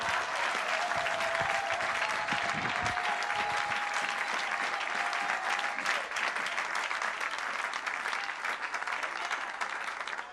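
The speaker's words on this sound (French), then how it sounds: "On l'acclame encore très fort, acclame encore très fort." A church congregation applauding loudly during a sermon, dense sustained clapping filling the room throughout, with a voice briefly audible under it early on.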